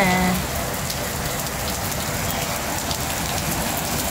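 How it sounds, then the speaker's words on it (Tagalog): Steady heavy typhoon rain fills the air with a constant loud roar of drops hitting surfaces, unbroken from start to finish. "Lakas ng ulan, grabe."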